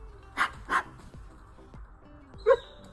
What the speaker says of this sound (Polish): Piesek.